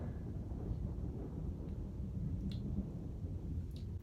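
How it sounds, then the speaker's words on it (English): Thunder outside an RV during a storm near Gatlinburg, Tennessee rumbles as a low, continuous roll, fairly loud and sustained, with a couple of faint clicks and no speech. "that's thunder"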